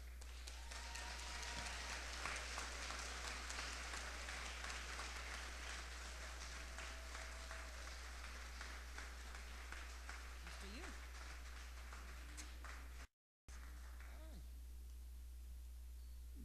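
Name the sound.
audience applause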